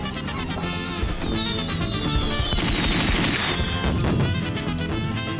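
Dense cartoon firework rockets burst in quick overlapping volleys at a flea-market fireworks show, with whistling trails streaking overhead and a continuous loud crackle throughout.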